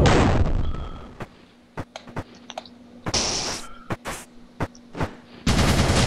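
Sharp gunshots fire in irregular bursts during Murder Miners play, some single cracks and some quick clusters, with a faint clicking layer underneath and a loud noisy stretch at the start and end.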